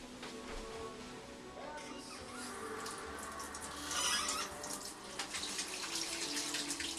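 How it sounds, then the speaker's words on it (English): Tap water running into a sink while hands are washed, a steady splashing stream that swells midway, under faint background sounds. "So I'm gonna have to wash my hands,"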